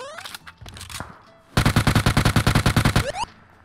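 Gunfire in PUBG Mobile: a few scattered single shots give way to a loud, rapid automatic burst of roughly fifteen evenly spaced rounds, close and sharp, then it stops abruptly.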